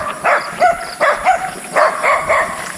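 Several dogs bark in short repeated bursts, loud and close, with yips between barks.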